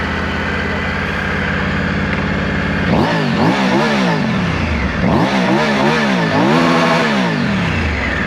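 A Triumph Tiger 900 Desert Edition motorcycle with an Akrapovic exhaust idles loudly up close, then gets blipped through a series of sharp throttle revs that rise and fall in pitch, three or four bursts in quick succession, with no talk.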